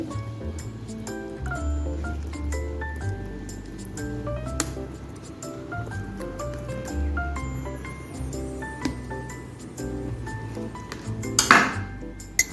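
Raw mango pickle ingredients with mustard oil are stirred together in a metal pot, with a spoon clinking and scraping against the sides in irregular taps and a soft tonal background underneath.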